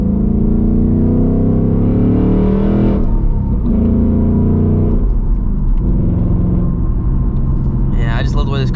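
A 2024 Mustang GT with a six-speed manual pulls hard, its engine note climbing in pitch through a gear, dropping at the shift, then climbing again, loud and close from inside the car.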